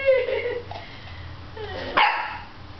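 A nearby dog gives high yips and whines, then one sharp, loud bark.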